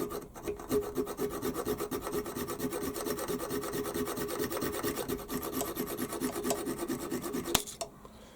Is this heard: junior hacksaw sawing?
yes